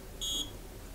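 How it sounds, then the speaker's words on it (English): An RFID access control unit sounds one short, piercing electronic beep as part of its shutdown countdown warning, loud and alone against a faint room hum. "So the last 10 seconds kind of beeps just to warn you that it's going to shut off."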